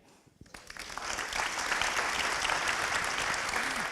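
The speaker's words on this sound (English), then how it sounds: "Big round of applause to the moderator and the panelists." An audience at a panel discussion in Tokyo breaks into applause that swells quickly and holds as a dense, steady wash of clapping.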